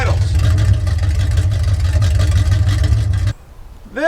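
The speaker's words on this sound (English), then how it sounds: "she sits here and idles" An old, long-abandoned Chevrolet C10 pickup idles nearby with a steady, rough low rumble, then the engine sound drops away abruptly near the end.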